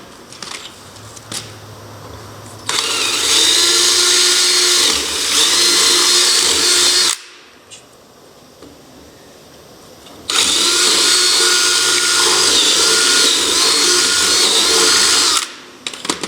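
A power drill reams out a hole in a wooden whiskey barrel, up against its metal band, in two loud sustained bursts of several seconds each, separated by a short pause, with no talking.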